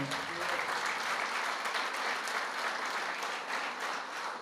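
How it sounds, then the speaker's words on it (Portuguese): A church congregation claps during a Sunday worship service, producing continuous, even applause of moderate loudness that carries on throughout without pause. "Dê um aplauso ao Senhor."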